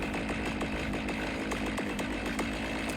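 A chainsaw in the video game Cyberpunk 2077 runs continuously at a loud, steady rev with a rough, buzzing roar and a slightly pulsing rhythm, and no voices can be heard over it.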